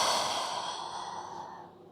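A person breathes out slowly and audibly during a relaxing yoga session, giving one soft, breathy exhale that fades over about two seconds, close and alone.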